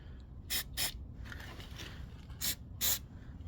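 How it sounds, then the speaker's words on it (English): Aerosol spray can of enamel paint sprayed onto exposed steel on the rear step of an AWD Sprinter van, four short hissing bursts, two close together early and two more near the end, with a fainter hiss between them. "Spray that in there."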